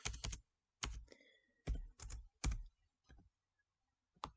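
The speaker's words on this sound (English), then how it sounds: "So if I wanted to change that to 45 degrees, I could simply type in the number there" A few short bursts of clicks on a computer keyboard as a number is keyed in, close and quiet, separated by silent gaps and with no talking.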